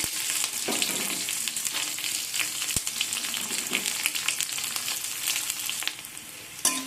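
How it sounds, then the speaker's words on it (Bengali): Whole cumin, curry leaves and onion fry in hot mustard oil, giving a continuous crackling sizzle with sharp pops. A utensil stirs and scrapes the pan now and then, and no one speaks. "সরষের তেল দিয়ে দেবো গোটা জিরে কিছু কারি পাতা এরপর দিয়ে দেবো কিছু পেঁয়াজ"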